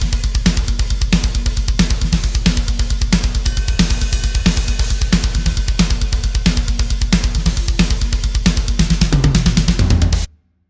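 Multitrack drum kit playback using Krimh drums in Cubase, a fast, dense metal-style pattern with relentless kick and snare hits under bright cymbal wash, loud and steady for about ten seconds before stopping abruptly.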